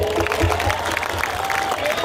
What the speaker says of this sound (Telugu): 2 చేతులు పైకి ఒకసారి గట్టిగా చప్పట్లు కొట్టారు అందరూ